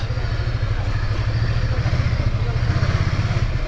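A 2024 Ducati Scrambler 800 motorcycle engine idles with a steady, low rumbling exhaust throb and some mechanical clatter, close and continuous.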